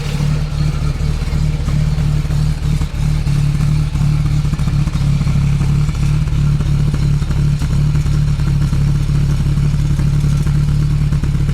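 A 1936 Bentley Derby 4¼ Litre engine idles steadily and close by, a continuous low, even throb with faint mechanical clatter and no pauses.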